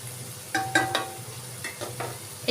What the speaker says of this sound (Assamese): এনেদৰে অকণমান মই গাখীৰ দি লৰাই লৈছোঁ।